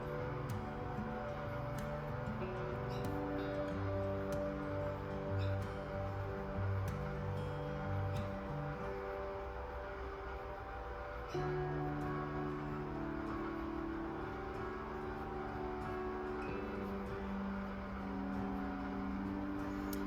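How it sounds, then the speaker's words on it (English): A faint, steady mechanical whir from an ice cream machine, with a droning hum that shifts in pitch partway through, running on its own without voices. "The machine is making ice cream."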